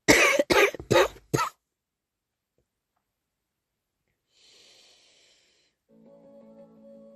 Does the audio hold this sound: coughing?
yes